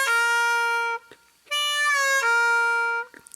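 Harmonica playing a lick of a bent 4-draw note and a half-step bent 3-draw note, two long sustained tones separated by a short breathy gap, loud and close, followed by a brief breath.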